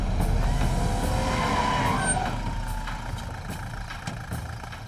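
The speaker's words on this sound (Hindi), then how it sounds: "गाड़ी घुमा गाड़ी घुमा गाड़ी घुमा।" A car swings around with tyres skidding and squealing in a bright smear over its engine note, then eases to a quieter idle rumble, close by and without voices.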